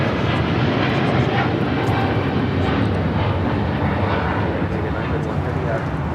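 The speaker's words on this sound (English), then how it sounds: "This is Philippine Airlines 113 taking off to Manila on a 777-300ER" Philippine Airlines Boeing 777-300ER taking off from LAX toward Manila, a loud, steady jet engine roar filling the whole span with broadband rumble, with voices talking over it.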